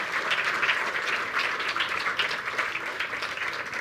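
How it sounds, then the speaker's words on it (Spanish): An audience applauds to welcome speakers at a talk, a dense, even burst of clapping held at a steady level throughout. "Fuerte el aplauso, por favor, para recibirlos."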